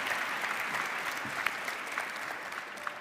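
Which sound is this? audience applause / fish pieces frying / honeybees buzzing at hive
audience applause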